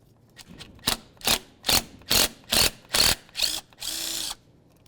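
A ratchet works bolts loose on a 2000-2005 Buick LeSabre ignition coil: a run of seven or eight short, buzzing ratcheting bursts, close and evenly paced, ending in one longer sustained burst.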